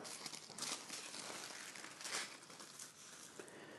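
Paper sewing pattern pieces for a Simplicity dress crinkle and rustle faintly as they are handled and cut, soft irregular crumpling close by.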